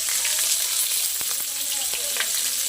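Liempo pork belly frying in a pan, a continuous bright sizzle with scattered pops and crackles, steady and close, alone without talk.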